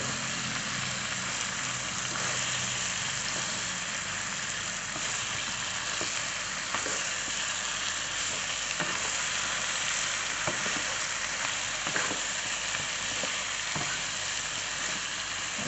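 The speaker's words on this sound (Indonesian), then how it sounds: "Kita aduk-aduk dulu ayamnya dengan bumbu." Chicken stirred into frying spices in a pan for tongseng, giving a continuous even sizzle with soft, regular scraping and tapping of the spoon throughout, close and fairly quiet.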